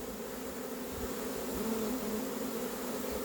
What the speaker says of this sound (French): La pauvre ruche est totalement recouverte d'abeilles.